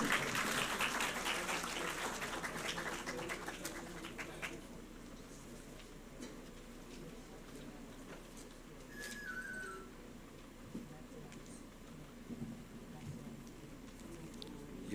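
An audience at a national tourism conclave claps and whistles to welcome a keynote speaker, loudest at the start and fading over the first few seconds into a low murmur of voices.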